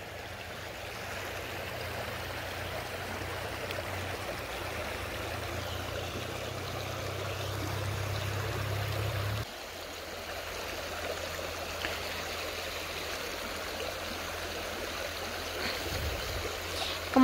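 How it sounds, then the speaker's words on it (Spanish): River water flowing steadily beneath the Caquil bridge in Joyabaj, Quiché, a constant broad rushing wash heard alone, with a low hum in the first half that drops out partway through. "Que el río por acá en Caquil no está muy contaminado."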